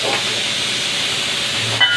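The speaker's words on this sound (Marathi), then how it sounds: "आता पाण्याला पण उकळी आली" Water comes to a boil while coriander vadi mixture is cooked, producing a steady, close hiss of steam with a brief clatter near the end.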